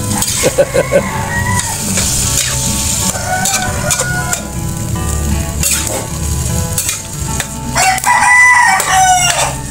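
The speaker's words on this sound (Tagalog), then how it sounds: "kasama na maingay ng mga manok" A rooster crows amid a noisy, busy mix of sizzling frying food and clatter, fairly loud and close throughout.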